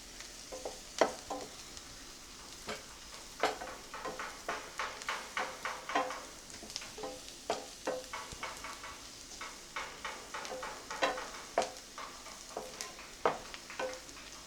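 Masala powder is stirred in hot oil for mushroom pepper masala, with a soft continuous sizzle and frequent scraping, tapping ladle strokes against the pan, close and fairly quiet.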